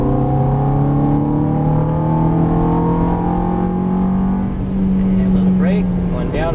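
A Ferrari F430 engine accelerates out of a turn with a steady, loud rising drone, joined by a short revving burst near the end, heard from inside the car.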